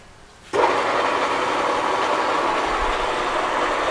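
Summit 16X60B gap bed engine lathe motor switching on after near silence, then a steady loud broadband whir that holds without a break.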